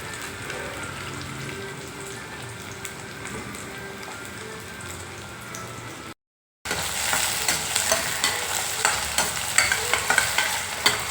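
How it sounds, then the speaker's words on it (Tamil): Onions for an okra curry fry in a pan with a soft, rain-like sizzle, followed after a brief cut by louder, rhythmic stirring scrapes, close by and without speech. "வெங்காயம் நல்லா வதங்கிச்சு"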